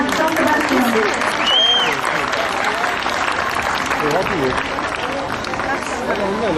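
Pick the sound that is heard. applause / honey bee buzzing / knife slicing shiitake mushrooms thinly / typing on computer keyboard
applause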